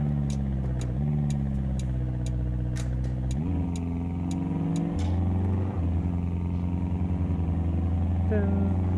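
A BMW M4 sports car engine in Euro Truck Simulator 2 drones and shifts pitch as it revs up and changes gears, loud and close, with a few sharp ticks over the top.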